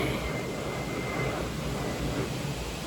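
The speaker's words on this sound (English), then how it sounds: "a plane is flying overhead all day" An airplane passes overhead outdoors, a steady broad roar that holds evenly throughout, moderately loud and without talk.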